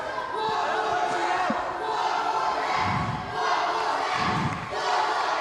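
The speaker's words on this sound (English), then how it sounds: "the crowd is chanting on for a rematch here" Wrestling crowd at an IWA Mid South ladder match, loud and dense, with rhythmic chanting swells rising and falling across the arena and a few dull thuds underneath.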